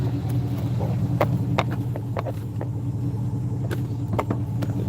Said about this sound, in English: It definitely has a nice burble to it. That good old Hemi burbles.